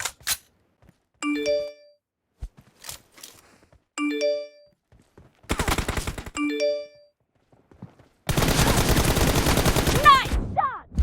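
Gunfire in PUBG: a few separated bursts of rapid automatic shots ring out, mixed with chiming tonal game sounds and a longer dense volley near the end.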